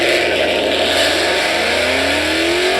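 Ford Mustang Coyote V8 engine revving, loud and close, a harsh rising roar sweeping steadily upward in pitch over a couple of seconds.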